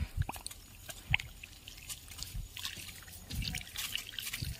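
Water trickles and splashes onto soil around potato plants in uneven bursts, with soft drips and dribbles close by, fairly quiet.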